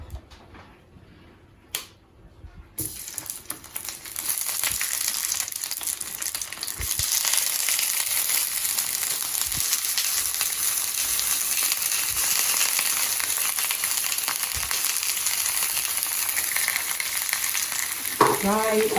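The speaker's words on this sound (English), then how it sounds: "Fry until browned on all sides" Sausages fry in hot oil in a sauté pan, a quiet start breaking into a loud, steady, close crackling sizzle that holds to the end, with an occasional tap of a utensil.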